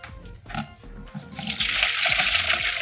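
Water poured into an ice cream tub to measure an equal part for a one-to-one plaster mix, a rising steady splash and trickle that builds and holds loud and close, with no talking.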